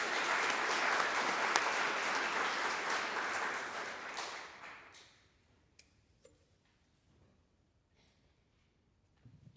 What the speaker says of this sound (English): Let's also give Jocelyn a round of applause for her act of creation